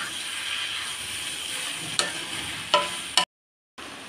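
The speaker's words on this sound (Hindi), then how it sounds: "अब हम इसमें नूडल्स ऐड कर देंगे और इसको अच्छे से मिक्स कर लेंगे।" Noodles being stir-fried for chowmein in a pan, a constant bright sizzle with three sharp utensil clanks near the end before the sound cuts out briefly.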